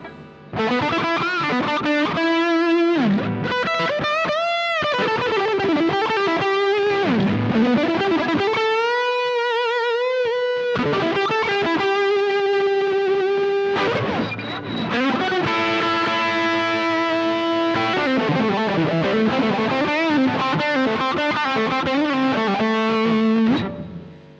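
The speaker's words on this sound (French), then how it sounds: "avec une pédale, la Dark Matter de TC Electronic, une petite distorsion un peu moins forte" An electric guitar plays through a TC Electronic Dark Matter distortion pedal, set to a milder distortion. The tone is loud and sustained, with chords and ringing notes and no gaps.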